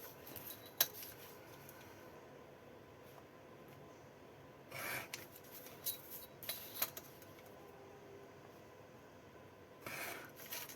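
A craft knife slicing through paper for a scrapbooking gift box: several short, quiet rasping strokes over near silence, with soft handling clicks in between.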